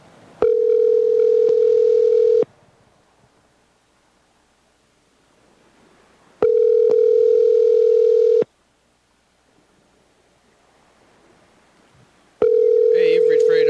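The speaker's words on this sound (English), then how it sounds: "Let's call Freddie, the producer, and then grandmother" Outgoing telephone ringback tone while calling someone: three loud, steady buzzing rings of about two seconds each, separated by roughly four seconds of near silence, heard alone.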